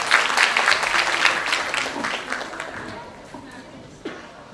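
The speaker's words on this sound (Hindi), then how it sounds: "जोरदार तालियों से स्वागत कीजिएगा।" Audience applause at a national theatre festival greets a guest coming to the stage, dense clapping at first that thins and fades over a few seconds.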